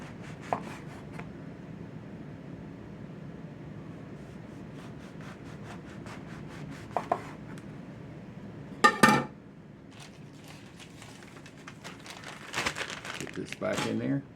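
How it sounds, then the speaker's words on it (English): A knife saws through a homemade sourdough loaf with repeated crackly, crumbly strokes and crust crunches, close by and sometimes under speech, with a few sharp clicks and knocks on a board. "I'm gonna slice off a couple of pieces of this"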